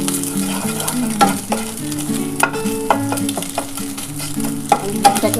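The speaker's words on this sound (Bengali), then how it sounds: "দেখো আমি কিন্তু ডিমটাকে ভেজে নিলাম" Egg frying in a pan while cooking a dhaba-style chicken egg tarka, a steady crackling sizzle with scraping stirs, close and alone.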